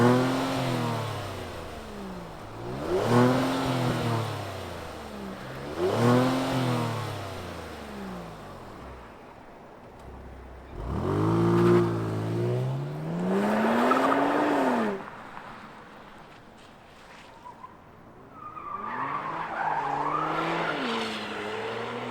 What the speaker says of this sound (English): let's fire up this G70 and hear what kind of hum it makes out the exhaust